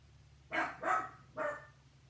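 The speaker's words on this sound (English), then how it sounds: "When you have a dog, there's not much you can do to get them quiet" A dog barks three times in quick succession, fairly close and loud, over a quiet indoor background with no talking.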